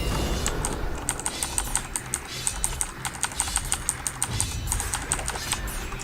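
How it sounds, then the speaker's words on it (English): Rapid, loud clacking of a computer keyboard while a PC game is played, sharp close keystrokes in quick irregular bursts over game background sound. "Apologies for the rather loud keyboard sounds."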